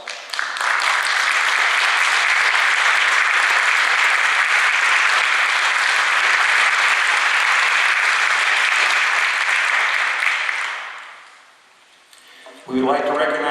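Warm, sustained applause from the audience at a college honor ceremony, a dense even roar of clapping lasting about ten seconds before fading out, followed by a speaking voice.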